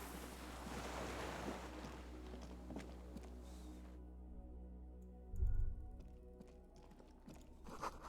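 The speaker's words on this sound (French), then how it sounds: "Vous entendez couler de l'eau en dessous," Ambient water running below and wind moving through a video game scene, a steady low rumble with hissing wash, a brief louder thump around the middle, and no talking.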